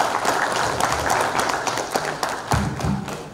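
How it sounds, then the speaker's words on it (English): Audience applause for speakers at an energy and health technology conference, a dense patter of clapping from a hall, close and steady, with a few louder thumps near the end. "I request a huge round of applause for these fantastic speakers"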